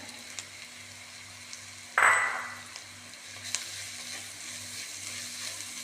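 Grated coconut being roasted in a pan over softened onions, a faint low sizzle with a sudden bright hiss when the coconut goes in, then scattered stirring scrapes and clicks.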